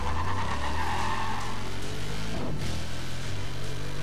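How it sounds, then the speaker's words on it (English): Vauxhall Monaro VXR in Need For Speed World spinning its wheels at a race start: a loud, steady engine roar with tire squeal and skidding running throughout, no voices. "Lots of wheel spin on the, at the start"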